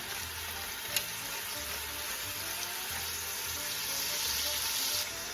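Chunks of meat browning in a hot pan for a long-simmered bolognese, seasoned with salt and pepper, give off a steady, close sizzle and crackle, with one brief clatter partway through and no talking.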